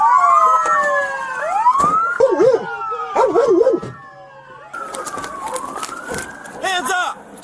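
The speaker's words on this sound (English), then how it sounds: "Oh my god, there's a dog." A dog howls along with police sirens during an arrest at the end of a high-speed chase, its wavering cries rising and falling over the loud wail while officers shout commands nearby.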